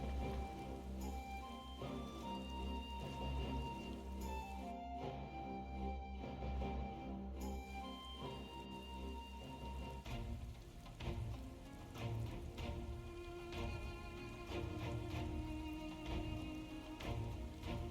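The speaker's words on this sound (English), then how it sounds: "It does rain in cutscenes a lot lately." Steady rain falls throughout a Final Fantasy XIV cutscene, a constant broadband wash of drops running continuously beneath layered orchestral music.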